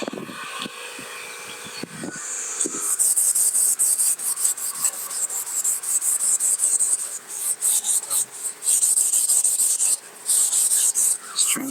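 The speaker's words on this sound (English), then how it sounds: "Trying to get some scuffing in this little indention right here. That way, when I do paint it, it doesn't just fall right off." Hand sanding a car body panel on a D150 truck, scuffing a small indentation before painting: repeated close, raspy back-and-forth strokes in quick rhythmic bursts with brief pauses, loud and alone after a few soft handling knocks at the start.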